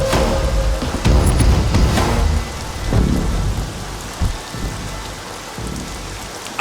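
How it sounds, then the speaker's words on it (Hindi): A sudden downpour in a Hindi-dubbed action movie scene: loud, dense rain mixed with rolling thunder booms that surge and fade, with no talk over it. "वेदर रिपोर्ट में बारिश नहीं आएगी बोले थे।"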